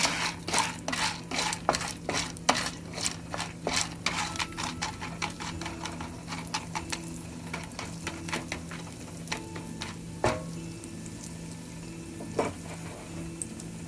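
Popcorn kernels stirred with salt and turmeric in oil make quick scraping, rattling strokes against a pan in an uneven rhythm, close and moderately loud over a low steady hum, with no voices.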